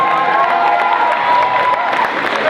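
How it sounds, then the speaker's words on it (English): A live audience breaks into loud, sustained applause mixed with cheering and whoops, a dense continuous roar of clapping and shouting throughout. "And Nathan Lambert, y'all give him a round of applause."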